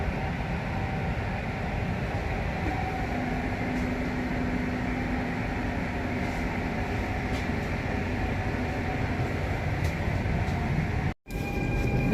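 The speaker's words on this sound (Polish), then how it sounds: "pociąg odjeżdża, którym przyjechałam z Iławy" Steady loud rumble and mechanical hum of a train departing a Warsaw station, continuous throughout, with a brief dropout near the end; no voices.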